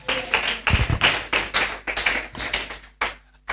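Church congregation clapping in acclaim for the King of kings, a run of quick, uneven sharp claps close by, with no voices.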